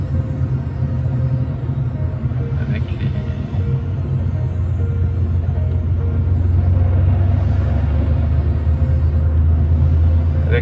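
Porsche 911 3.2 with G50 gearbox running on E85, cruising in everyday traffic at light throttle: a steady, loud low engine drone with road rumble, continuous and unbroken.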